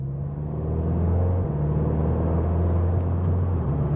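A Seat Leon Cupra 300 engine hums and rumbles steadily at low pitch, a smooth continuous drone heard from inside the car in Comfort mode with no talk.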